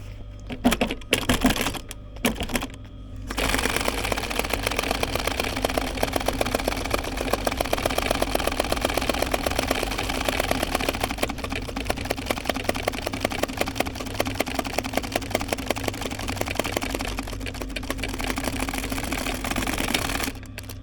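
A sewing machine stitches cushion fabric for a campervan with a rapid, loud mechanical chatter that runs continuously after a few short starting bursts, including a small back tack at the end of the seam.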